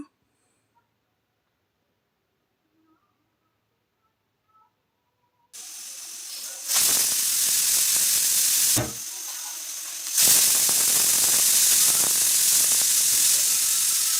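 A pressure cooker lets off steam while ghee rice cooks inside. After near silence, a loud, harsh hiss bursts out and holds, dips briefly, then surges again and keeps rushing steadily to the end.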